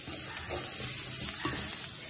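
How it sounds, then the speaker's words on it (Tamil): Mixed vegetables for sweet corn soup sauté in a pan with salt, giving a steady, close sizzle with soft stirring scrapes throughout. "இது நல்லா நம்ம கொஞ்சம் வதக்கிக்கலாம் இந்த காய் எல்லாத்தையுமே."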